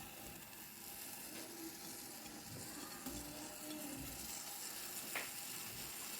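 Tomatoes go into a pot of matar gosht with whole onion and garlic, giving a low, steady frying hiss with soft bubbling and a couple of faint knocks, heard close but quiet with no voices.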